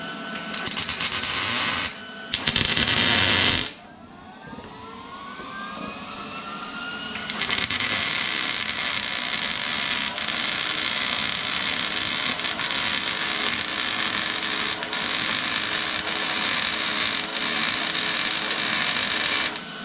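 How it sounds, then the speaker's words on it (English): Traction bar brackets are welded in a fabrication shop: a loud, steady crackling buzz of the arc runs on for many seconds after a few brief starts and stops. "Now you just gotta weld them."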